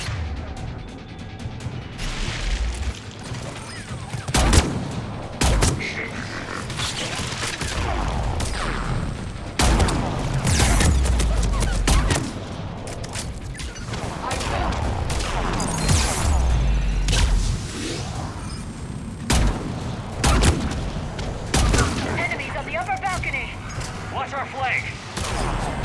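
Heavy hitscan weapons firing from a heavy weapons platform in a sci-fi video game, fighting an autonomous enemy craft: repeated loud, sharp bursts and crashes scattered through the fight, with a voice talking over much of it.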